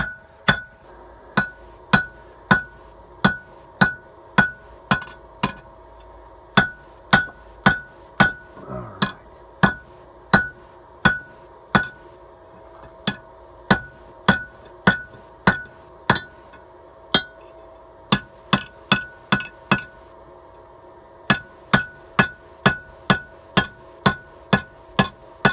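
Hammer planishing a metal pizza cutter, a steady run of sharp, bright metallic strikes roughly every half second, close and ringing, over a faint background hum.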